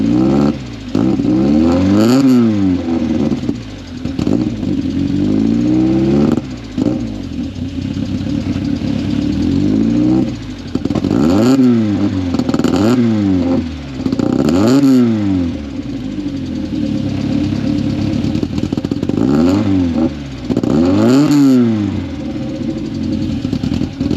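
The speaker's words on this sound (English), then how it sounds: "So I think the exhaust makes an absolutely beautiful noise." Mk1 Ford Fiesta engine revving hard through its exhaust, repeated rising-and-falling blips from idle, loud and close, with a steady burbling idle between revs and no talking.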